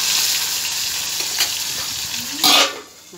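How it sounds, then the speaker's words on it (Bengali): Fish fries in a hot pan with a constant crackling sizzle, and a louder burst of spattering hisses briefly as the pieces are stirred or turned, then eases back. "এই দেখো এটা মাছ ভাজছি, আর মাছগুলো যা পটপট পটপট পটপট করছে"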